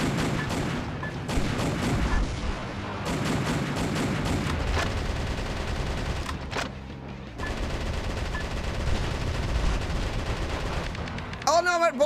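Rapid bursts of gunfire from the arcade shooter YARS Recharged, loud and nearly continuous with short gaps and a brief electronic chirp near the end.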